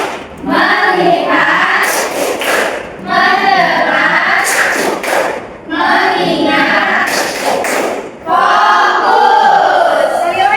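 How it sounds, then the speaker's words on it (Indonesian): Indonesian classroom focus-clapping game: a group of children chant in unison while clapping in rhythmic bursts, with several loud, energetic rounds separated by brief pauses. "Tepuk fokus."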